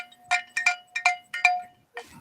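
A mobile phone ringtone plays nearby in a repeating rhythmic pattern of bright chiming bursts, several distinct pulses in a row before it cuts off, with no one speaking over it.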